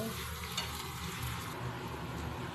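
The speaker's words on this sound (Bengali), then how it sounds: "পেঁয়াজ দিয়ে এবার আলু কচুটা ভালো করে নেড়ে চেড়ে ভাজা ভাজা করে নেব" Onion, potato and gathi kochu taro frying in a pan give a dense, steady close sizzle with a spatula stirring through it, no voices.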